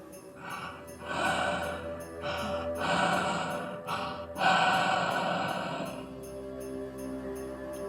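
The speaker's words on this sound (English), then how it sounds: "out of nowhere, I hear someone breathing near the front" Heavy, ragged breaths come close to the listener in several long gasping pulses, loud and uneven, then fade into quieter background noise.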